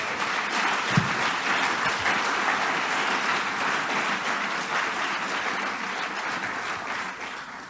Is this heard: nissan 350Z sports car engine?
no